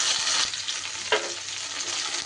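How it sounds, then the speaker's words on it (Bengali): Cut pointed gourd (potol) hits hot oil tempered with nigella seeds, a loud continuous sizzle and crackle with one sharp spatter burst partway through as the pieces are stirred. "এইবার কেটে ধুয়ে রাখা পটলগুলো দিয়ে দিচ্ছি"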